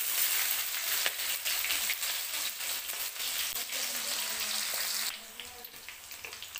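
Chopped onion with cumin and green chili frying in hot oil for a spicy raw papaya curry, giving a steady, dense sizzle that runs continuously and eases slightly in the last second or so.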